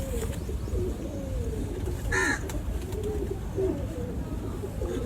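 Breeder pigeons coo in low, rolling calls repeated several times over a constant background hum, with one brief sharper flutter or call near the middle, close by and moderately loud.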